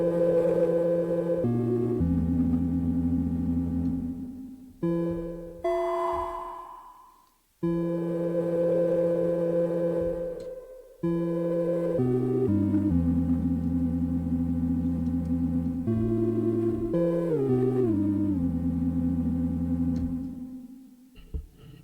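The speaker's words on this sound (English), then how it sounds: "if I bring in the sine wave and triangle wave again" Sine and triangle waves from a Zero 2 oscillator play as sustained, loud electronic tones that step between pitches in short phrases, with brief gaps and a gliding sweep, and no talking.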